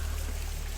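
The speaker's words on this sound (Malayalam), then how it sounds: "ഇത് വെള്ളം കുടിക്കാൻ പറ്റുന്ന വാട്ടർ. അത് മലമുകളിൽ നിന്ന് വരുന്ന വെള്ളമാണ്." Drinkable mountain spring water runs from a tap in Ghandruk village, Nepal, a steady close-up rushing pour heard alone for under a second.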